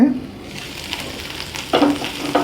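Green chillies soften in a covered pan for green chilli curry, with a low, even sizzle and a couple of louder scrapes from stirring.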